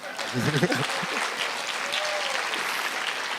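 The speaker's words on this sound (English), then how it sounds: "I think I deserve another round of applause, yes?" An audience gives a round of applause at a TEDx event, with a brief burst of voices at the start, then even, moderately faint clapping that carries on to the end.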